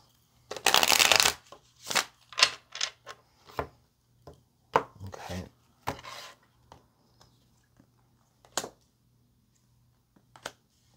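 Tarot cards are shuffled close up: a loud riffle burst at the start, followed by a series of softer taps and slides as the deck is handled.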